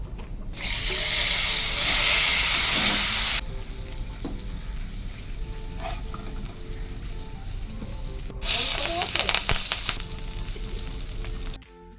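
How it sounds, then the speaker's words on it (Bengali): Potatoes frying in a pan, with oil already used for frying fish: a loud, bright sizzle that surges for a few seconds, settles into a steady lower crackle, then flares up again before stopping. "মাছটা আমার ভাজা হয়ে গেছে এবার আমি আলুগুলো ভেজে নেব"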